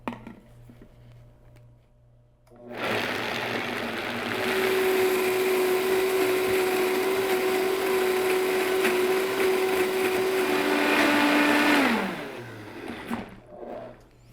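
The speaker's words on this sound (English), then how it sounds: "So we're just going to blend this for about a minute until it's smooth and creamy." A blender whirs loudly for about ten seconds, blending cashew queso with garlic cloves; the motor pitch holds steady and then drops as it winds down, with quiet background before and after.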